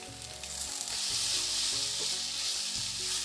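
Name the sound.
pumpkin leaves frying in a pan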